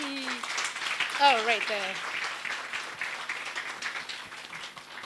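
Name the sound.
audience clapping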